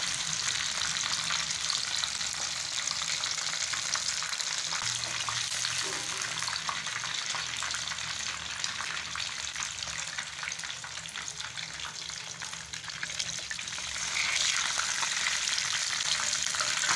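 River fish sizzle and spit steadily in a hot frying pan of oil, a loud, dense, continuous crackle with no pauses or talk.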